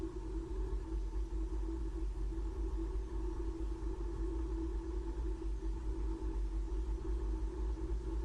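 Low, continuous engine rumble with a steady hum from a truck slowly moving while a hay bale stack is unloaded from its bed, even in level and heard without talk.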